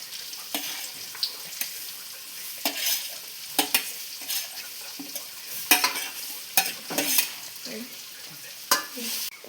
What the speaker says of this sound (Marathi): आता आमी ऑनियन घालता. पुरा घाला.